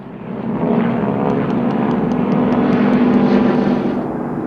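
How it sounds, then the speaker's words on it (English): Vintage Harvard and BT-13 Valiant propeller planes, modified to resemble Japanese Zero fighters and Kate bombers, fly overhead in a Pearl Harbor attack reenactment, a loud continuous droning roar that swells and holds steady, with no talk. "a large number of Harvards and BT-13 Valiant aircraft were heavily modified to accurately represent Japanese Zero fighters, Kate dive bombers"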